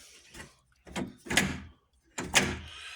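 The rear door lock of a Chevy truck engages with a few mechanical clunks and thunks, close by and spaced about a second apart, with no talking.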